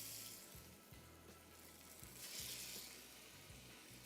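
Pieces of fish sizzling and frying steadily on a slightly scratched grill pan, with continuous crackle and a few low clunks as pieces are set down.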